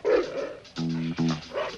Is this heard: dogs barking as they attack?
yes